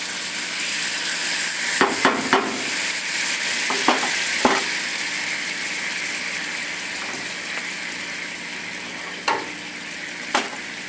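French toast topped with maple syrup sizzling in a pan, a loud steady frying hiss with occasional sharp clicks and taps of a utensil, no speech.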